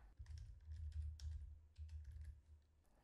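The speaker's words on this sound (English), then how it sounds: "go to the address bar and type" Rapid typing on a computer keyboard, a quick run of soft clicks in short bursts with brief pauses, close and fairly quiet.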